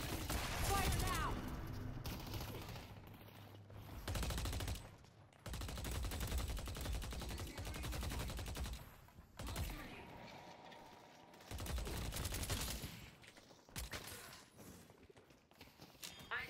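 Gunfire in the Deadlock video game, with dense bursts of automatic shots and rapid fusillades coming in long loud stretches broken by short lulls, and voices talking over the action.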